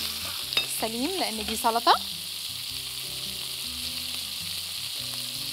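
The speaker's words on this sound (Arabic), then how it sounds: "فهقلب بالراحه خالص من تحت لفوق عشان ما تتفتتش مني" Potatoes with garlic and parsley are gently tossed and stirred in a frying pan over a continuous close sizzle, with soft scraping turns. Someone speaks briefly at the start.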